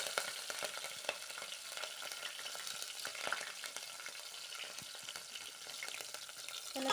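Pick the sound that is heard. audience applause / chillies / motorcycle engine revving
chillies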